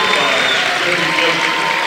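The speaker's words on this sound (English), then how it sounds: "The good round of applause." Crowd at a 2019 IHSAA high school basketball semi-state game between Ben Davis and Center Grove applauds as a player fouls out, a dense, steady wash of clapping and murmur with commentators' voices over it.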